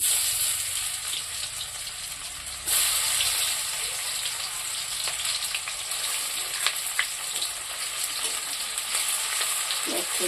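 Onions frying in a pan as the first step of a chicken curry, a steady bright hiss of sizzling oil lasting throughout, with occasional faint crackles and light stirring scrapes.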